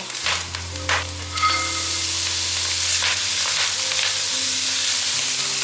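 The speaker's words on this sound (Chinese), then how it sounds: "大约炒了2分钟，把芹菜和高丽菜放进来" Carrot, celery and cabbage are stir-fried in a pan for a vegan taro filling, giving a loud continuous sizzle close by, with sharper bursts of clatter near the start as the vegetables go in and are tossed.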